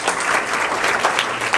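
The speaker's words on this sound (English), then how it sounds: "give her a round of applause" An audience at a lieutenant governor candidates' forum applauds a candidate's wife, a brief, dense wash of many hands clapping at steady volume, crowd-wide and without speech.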